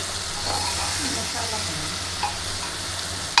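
Onions sizzle and fry in a pan while being stirred for a village-style jackfruit curry, a steady moderate crackle running throughout with occasional scraping clinks, no talking.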